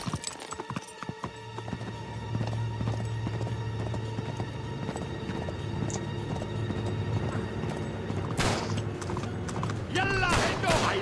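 Horse hooves clip-clop in the video game Uncharted 3, a steady galloping rhythm under game music and effects, with a louder burst of action noise near the end.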